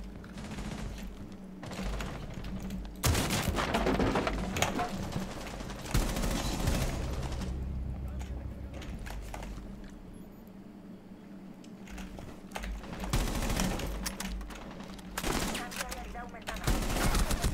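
Rainbow Six Siege gunfire in a match, rapid bursts of automatic shots that come and go in clusters over several seconds, loud and close, mixed with game noise and occasional voices.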